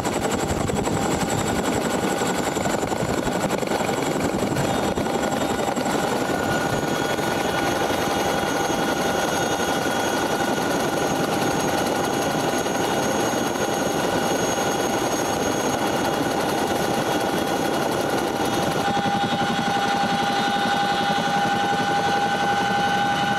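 A helicopter drones steadily overhead, its rotor and engine roar filling the air with a constant, loud hum that slightly shifts in tone near the end.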